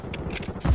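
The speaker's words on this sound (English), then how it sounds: "Switching mags." A short burst of mechanical clacks and a scrape as a magazine is swapped on a gun in Call of Duty Modern Warfare II, close and fairly loud, ending in a heavier thump.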